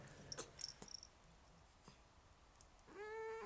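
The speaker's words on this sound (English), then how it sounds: "maybe we can say hi to my cat" A house cat gives a single drawn-out meow near the end, after some quiet scattered clicks and taps in an otherwise calm indoor room.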